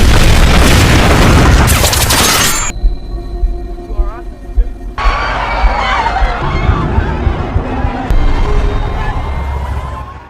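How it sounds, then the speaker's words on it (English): A loud, deep nail bomb blast roars at the start, then fades into a confused din of shouting crowd noise and commotion at a crowded venue. "the bomb exploded and projectile-like nails were shot everywhere"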